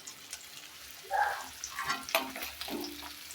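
Aair fish frying in oil in a pan in a village kitchen, giving a steady close sizzle with a few scraping stirs and utensil clinks, louder bursts in the middle, and no talking.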